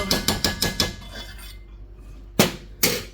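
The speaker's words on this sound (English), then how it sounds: "put the lid back on" A metal lid is set back onto a cooking pot, with a quick run of light clinks and rattles at the start, then a pause and two sharper clanks as it settles.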